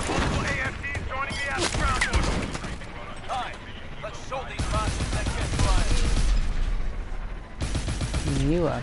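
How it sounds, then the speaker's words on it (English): Sustained automatic gunfire rattles at the player throughout a Call of Duty: Advanced Warfare firefight, loud and near, with mechanical clanks and radio-style voices speaking over the shooting. "what the hell is shooting at me?"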